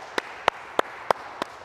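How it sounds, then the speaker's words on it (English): Five sharp, evenly spaced claps from basketball players at the end of an in-and-out lane finishing drill, ringing in a gym at a steady rhythm with no talk. "Clap it up, clap it up, clap it up."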